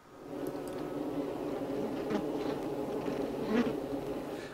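Honey bees hum inside their hive in a dense, continuous buzz that sits close and fairly quiet, swelling slightly now and then with no voices present.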